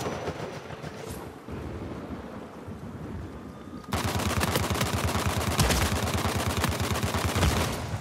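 P90 fire in Uncharted 4 multiplayer. A loud, sustained burst of rapid automatic shots starts abruptly after quieter game noise and rattles on steadily to the end.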